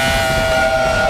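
Steady loud wail of an RDK 3000 Tristar siren mounted at the back of a headquarters building, a continuous tonal drone with strong harmonic bands that holds without break as its motor runs.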